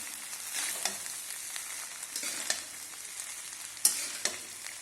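Banana fried rice stirred in a hot pan with sugar, giving a steady sizzle broken by several sharp scrapes and clinks of the spatula, close and moderately loud.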